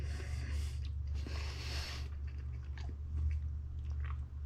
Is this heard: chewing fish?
yes